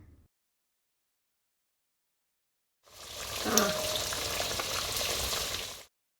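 A fish curry with a little coconut milk simmers and bubbles in a pan, a soft steady sizzle that starts after a few seconds of silence and then cuts off.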